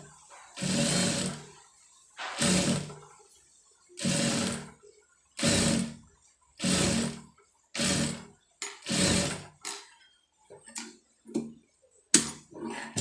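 A sewing machine stitches readymade piping in about nine evenly spaced bursts of whirring, each lasting roughly a second, close and clear, with shorter stitching bursts toward the end.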